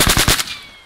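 Gunfire from a rifle shot in a quick burst of about four close, loud rounds, then a short fading echo, no voices.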